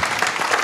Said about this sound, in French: on peut applaudir bien fort toute l'équipe du guide Achète